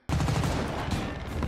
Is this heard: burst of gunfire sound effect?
yes